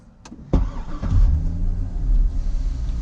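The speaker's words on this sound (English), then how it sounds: "So the car starts up just as it should." A 2005 Chevrolet Corvette Convertible engine cranks and fires, catching with a loud burst that settles into a steady, rumbling idle up close, with no talking.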